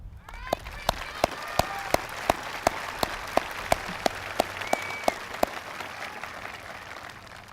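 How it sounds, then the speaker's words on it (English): Sparse, evenly spaced claps ring out one at a time over a low murmur of talk and crowd noise, at a high school graduation ceremony for a class of 2014. "Let's take a moment to give a nice round of applause for all of them"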